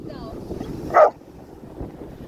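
Coco, a Labrador at the beach, lets out one short, loud bark midway through, over steady wind rumble and background voices.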